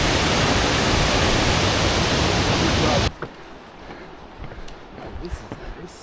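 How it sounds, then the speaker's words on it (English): A wilderness waterfall on a Canadian backpacking route, loud and steady as a roaring wash of rushing water that cuts off abruptly after about three seconds, leaving quiet outdoor ambience. "Nice waterfall."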